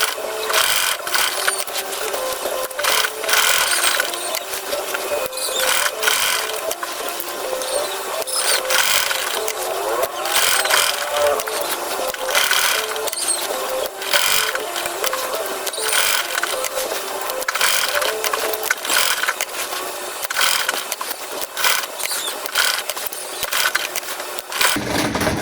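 A sewing machine darns a pair of trousers, its needle chattering in a fast, continuous mechanical rhythm, loud and close throughout, with brief pauses and shifts in pace as the fabric is moved.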